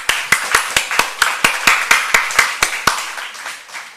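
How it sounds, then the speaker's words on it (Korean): Rhythmic unison clapping from a church congregation at a Wednesday worship service, about fourteen sharp, evenly spaced claps over four seconds, close and fairly loud with no talk. "우리 박수 한번 칩시다."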